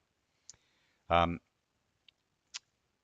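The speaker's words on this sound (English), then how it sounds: "So click on a hydrant, you can see the hydrant information." Three sharp, isolated computer mouse clicks, made while selecting hydrants on a digital map, spaced apart in a quiet room, with a short tonal blip sounding between the first and second clicks.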